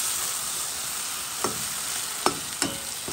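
Liver pâté browns with onions, chili and ginger in a hot pan, a loud steady sizzle with three quick scraping stirs near the end.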